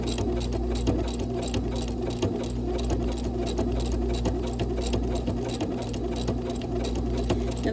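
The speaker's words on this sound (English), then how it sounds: "I'm going to go ahead and start sewing now and just showing you how that runs along that edge." A sewing machine stitches raw edge appliqué along a fabric edge, running as a fast, steady, close mechanical whir and patter throughout without pausing.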